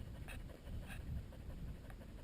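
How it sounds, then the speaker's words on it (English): Several dogs panting hard and rhythmically close by on an outdoor walk in cool weather, with low wind rumble and light handling noise underneath. "you can't hear anything because the dogs are panting so hard"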